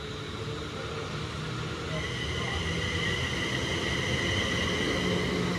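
A passenger train of two units, eight coaches, departs Rugby station for London Euston, giving a steady broad rumble and hum that builds slightly as it pulls away, with faint voices in the background.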